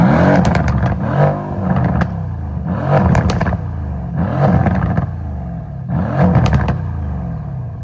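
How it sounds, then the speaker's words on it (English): A Mercedes C63S V8 with its mufflers cut off is revved in repeated loud blips, four sharp bursts with crackling tails separated by rough idle, heard close up. "We just got the mufflers cut, so I'm gonna give y'all some revs real quick."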